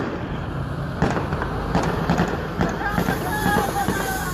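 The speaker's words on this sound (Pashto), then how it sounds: "د خوشحالۍ ډز هم شروع دي" Celebratory gunfire near Kandahar Airport as a large convoy arrives, with scattered sharp distant cracks popping irregularly over crowd noise and wind.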